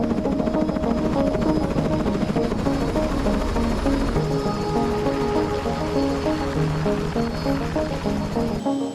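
A tour helicopter's rotor thumps in a fast, steady chop alongside a continuous engine drone, loud and close throughout, on a coastal flight at Destin, Florida.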